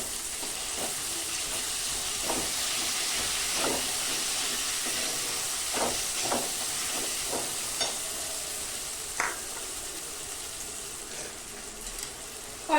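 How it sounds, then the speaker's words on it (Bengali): Spice paste and green chilies frying in a pan for a fish curry, a soft continuous hiss dotted with scattered small pops and stirring clicks, fairly quiet and without speech. "মশলাটা এবার ভালো মতো কষিয়ে নেব"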